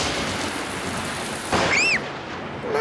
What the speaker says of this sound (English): the thunder bangs are very loud